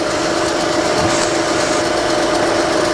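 A machine spindle runs steadily under power feed, a loud constant motor hum and drone with no speech over it.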